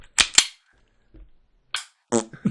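Two sharp, close cracks from a gas revolver fire in quick succession, followed by quiet and brief fainter sounds, including what may be a voice.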